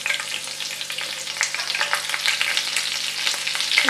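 Green chillies fry with cumin seeds in hot oil for a mushroom masala curry, giving a steady, fairly loud crackling sizzle with scattered sharp pops and no voices.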